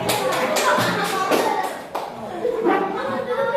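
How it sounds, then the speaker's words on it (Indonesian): Classmates in a classroom clap for a student group, a fairly close, rhythmic patter of hands mixed with children's voices and shuffling. "Tepuk tangan untuk kelompok mereka dan kawan-kawan."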